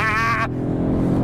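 A 2024 Audi RS3 facelift accelerating on a race track, its engine roaring loud and close in a rising tone that suddenly drops as it shifts gears, then a steady low rumble.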